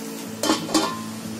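A lid goes onto a cooking pan of brinjal gravy on the stove, making two short metallic clinks close by over a soft background hiss.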